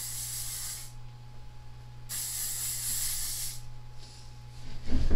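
Lightweight hairspray sprayed all over hair, two sustained close aerosol hisses, the first about a second and the second about a second and a half, followed by a soft thump.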